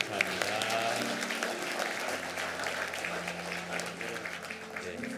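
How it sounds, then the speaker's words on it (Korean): A church congregation applauds retiring deacons during a Sunday retirement thanksgiving service, with steady massed clapping in a reverberant hall and sustained organ or keyboard tones underneath. "큰 박수로 또 축하해 주시면 감사하겠습니다"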